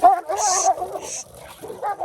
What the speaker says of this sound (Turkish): E bu da Anadolu çoban köpeği.